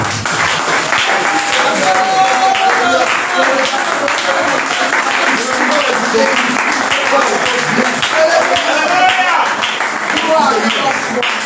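Church congregation at a Sunday service applauding and acclaiming, a sustained, loud wash of clapping that runs throughout, mixed with voices and cheers from the crowd.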